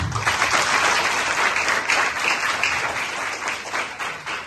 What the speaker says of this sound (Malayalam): നല്ലൊരു ബിഗ് ക്ലാപ്പ് കൊടുക്കും